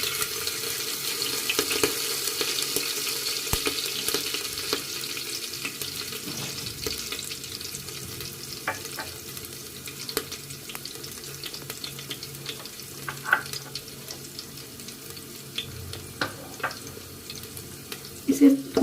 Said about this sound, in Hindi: इसे थोड़ा सा सौटे करेंगे